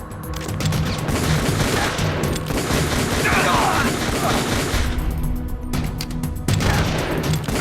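Dense, loud gunfire from Metal Gear Solid: The Twin Snakes comes as a sustained fusillade of rapid shots with heavy booming impacts. It runs almost continuously, with a brief lull near the end before the firing picks up again.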